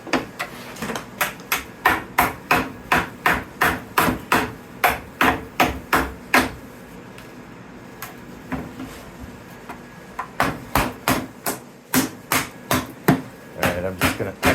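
Silicone molds being hammered apart: a rapid run of sharp, evenly spaced near blows, a brief pause, then more strikes in quick bursts, loud and close.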